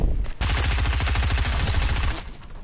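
Rapid SMG fire in a multiplayer shooter against bots, a loud sustained burst of fast, evenly spaced shots lasting about two seconds after a brief opening crack, then cutting off.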